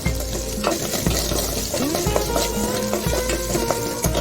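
Small onions fry in a pan for bottle gourd sambar, giving a continuous loud sizzle with crackling spits and occasional scraping as they are stirred, close up and steady.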